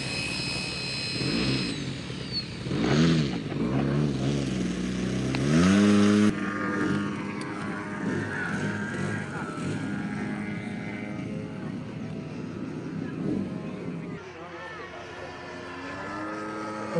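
A model aircraft engine of about 100 cc and roughly 12 hp flies at a model airshow, its loud droning whine rising and falling as the plane passes. Voices and crowd sounds mix in underneath.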